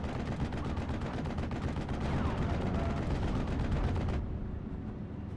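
Rapid, continuous machine-gun fire from a 222 armored car in a World War II strategy game, a dense unbroken rattle of rounds at steady loudness that cuts off abruptly near the end, leaving a dull rumble.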